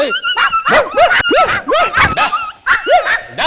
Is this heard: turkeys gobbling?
no